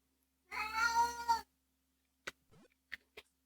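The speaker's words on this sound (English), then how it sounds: "this cat's distracting me so much" A single drawn-out cat meow rings out close and clear, followed by a few short faint clicks and a small chirpy sound in a quiet room.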